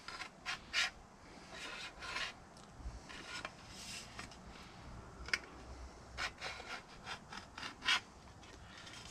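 A scribe drawing a centre line along a camper van solar panel, with close, quiet scraping strokes in uneven bursts.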